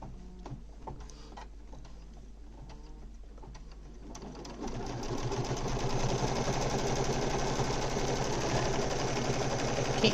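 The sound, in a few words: embroidery machine stitching a mug rug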